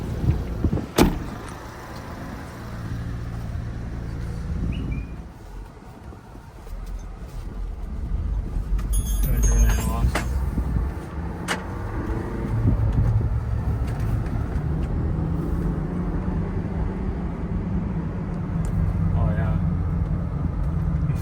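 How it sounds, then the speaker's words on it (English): Tires roar against the road from inside a moving car, a constant low rumble that swells and fades, with occasional muffled voices. "You could hear my tires like crazy."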